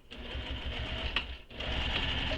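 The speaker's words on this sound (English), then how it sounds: "And I'm just going to sew 2 lines of stitching." A sewing machine runs close and steady, stitching two lines through fabric in a brief continuous whir with a short break midway.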